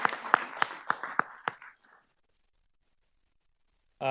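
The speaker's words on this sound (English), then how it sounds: "So give Katie a round of applause," Scattered clapping from a small city council audience honoring scholarship recipients: about half a dozen separate, close claps over two seconds that thin out into silence before a voice starts.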